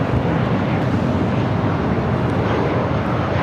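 At LAX, a British Airways Airbus A380 jet airliner departs with a loud, dense, continuous engine roar that stays even from start to finish, with no speech.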